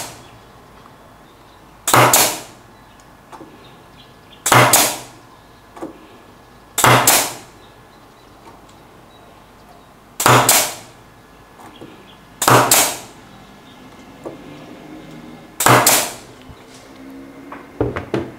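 T50 pneumatic nail gun driving nails at about 4 bar of air pressure, six sharp loud shots spaced a couple of seconds apart with quiet hiss between them.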